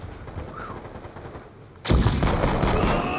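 A select-fire gun in a multiplayer shooter opens up in a sudden loud burst of rapid automatic fire that continues steadily to the end after a quieter stretch of game ambience.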